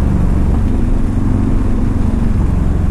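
Yamaha Raider muscle motorcycle engine pulling hard under acceleration through the gears, a loud, close, dense low roar with steady rumbling and no pauses or voices.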